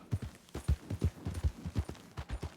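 Horse hooves clip-clop at a steady trot in Red Dead Redemption 2, a fast horse's evenly spaced thuds close and clear with no talk over them.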